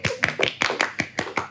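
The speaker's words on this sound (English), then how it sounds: "so let's clap" Eight or so sharp claps in a quick, steady rhythm, close and clear, with no talking.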